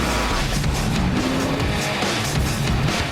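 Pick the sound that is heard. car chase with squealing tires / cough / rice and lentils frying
car chase with squealing tires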